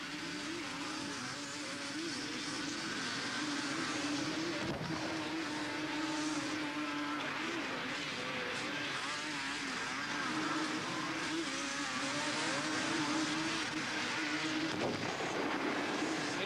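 Yamaha 350 quad bikes race in a televised competition, engines droning continuously at mid distance with rising and falling revs as the riders pass, and a brief louder swell near the middle.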